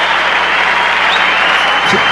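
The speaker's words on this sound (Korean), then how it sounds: "관중들의 환호성을 보세요." A played recording of a cheering crowd gives a dense, steady wash of applause and shouting that holds at an even level for the whole stretch.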